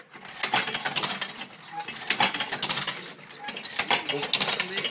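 A pedal-powered printing press runs at a print workshop, giving off dense, continuous mechanical clatter with repeated ratcheting clicks and rolling, pulley-like rattles, loud and close throughout.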